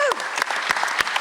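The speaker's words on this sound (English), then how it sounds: "Big round of applause." A theatre audience at a poetry contest claps after a poem, brief scattered applause with a few distinct claps and a whoop or voice mixed in.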